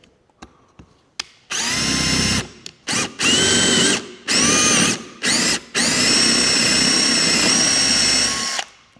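A power drill bores through wood backed by a sacrificial board, running in several loud, close bursts of steady whine, with a few short clicks before the long final run.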